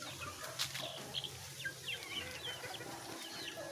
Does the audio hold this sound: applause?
no